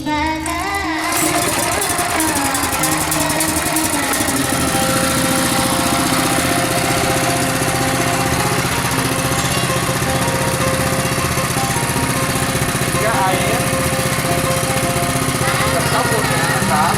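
A small water suction pump engine runs steadily and loudly after starting, a constant buzzing drone filling the whole stretch, set up for a smokeless waste-burning system.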